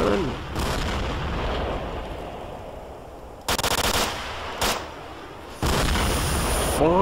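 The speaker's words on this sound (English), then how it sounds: "Grenades and rockets and all sorts of craziness" Rocket and grenade blasts in the shooter STALKER: Shadow of Chernobyl at the Pripyat stadium, with loud sharp bursts near 3.5, 4.7 and 5.7 seconds over constant rattling gunfire and heavy rumble.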